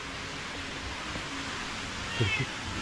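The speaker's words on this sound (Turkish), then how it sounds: "Kedicem miyav miyav." A short, faint cat meow rises briefly near the end over a quiet, steady background hiss.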